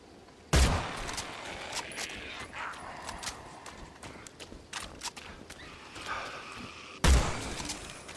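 Sawgun fire in Evil Dead: The Game, two loud sharp blasts several seconds apart over busy game ambience with scattered smaller hits.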